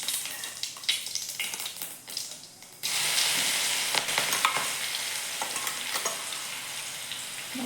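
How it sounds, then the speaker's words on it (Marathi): Garlic and green chili paste sizzles and fries in a pan with cumin seeds, starting with scattered stirring clatters, then a sudden loud, steady hiss as the paste hits the hot oil, with occasional scrapes throughout. "व्यवस्थित परतून घ्यायचं आपल्याला अगोदर"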